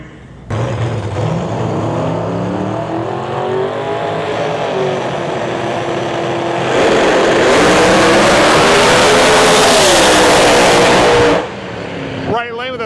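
Pro Mod drag racing cars, including a turbo car, roar off the line at the US Street Nationals. A sustained, rising engine howl builds to a loud pass down the strip and then cuts away abruptly.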